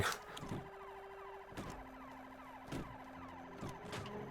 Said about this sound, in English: as soon as I can stop hearing this police siren